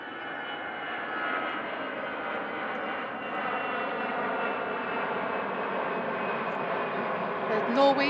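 A Eurowings jet airliner departs at Manchester Airport, its engine roar a steady, moderately distant drone that swells slightly toward the end.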